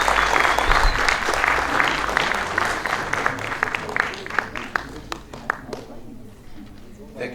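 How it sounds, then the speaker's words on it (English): Conference audience applauding a speaker's introduction, dense clapping loud at first, then thinning into scattered individual claps and fading out. "let's give a big round of applause for Professor Mutambara."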